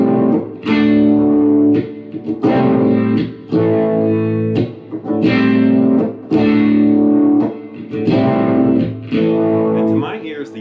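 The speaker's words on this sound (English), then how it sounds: "I think this is actually a Uni-Vibe." Electric guitar plays a riff through a Uni-Vibe pedal, giving a swirling, slightly muffled tone; loud and close, in repeated phrases separated by short pauses.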